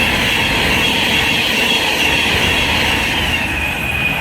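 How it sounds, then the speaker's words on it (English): A Pendolino express train passes through Tamworth station on the West Coast Main Line, a steady, loud rumble of wheels and rolling stock held for several seconds with a high hiss above it and no speech. "we've got a Pendolino passing by"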